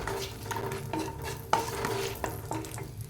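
Whole spices, including a cinnamon stick, sizzle and crackle in hot oil while a utensil stirs and scrapes the pan for an egg masala curry, with occasional sharp clinks, close up and steady.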